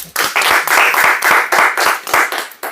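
An audience claps at a talk in Lalganj, Azamgarh, Uttar Pradesh, a loud, rhythmic burst of applause with clearly separated, evenly spaced claps all the way through.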